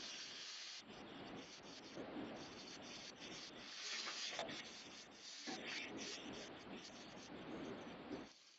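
Curry for muri ghonto with rohu fish head spluttering and bubbling hard in a pan, a dense, loud, close crackling hiss that runs on continuously with a few brief dips.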